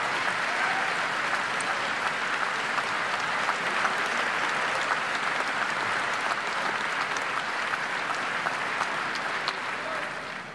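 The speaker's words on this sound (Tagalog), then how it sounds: "Basta palakpak lang." Sustained applause from a Senate or congressional audience at a political hearing, a dense steady clatter of many hands filling the whole stretch at an even level.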